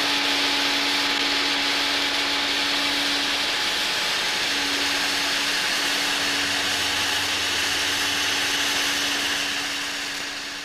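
A household vacuum cleaner runs steadily and loudly close by, with a constant motor whine and airflow roar that begins to wind down right at the end.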